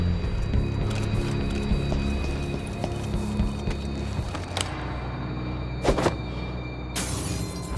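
Glass shatters inside a tense Dishonored 2 level, a sharp bright burst near six seconds and another crash about seven seconds, set over a dense, steady bed of low game ambience and music.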